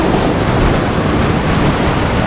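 Ocean waves washing in steadily at the shore during a squid fishing trip in South Australia, a loud continuous roar and wash mixed with wind buffeting the microphone, with no voices.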